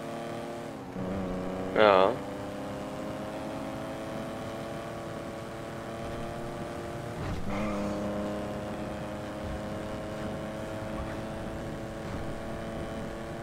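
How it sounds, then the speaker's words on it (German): A car engine in GTA Online drones steadily with a clear harmonic whine, shifting and surging mid-way as the car accelerates, while a player speaks briefly over it and a short tonal blip sounds early on. "Aber die Karre hat einen geilen Sound."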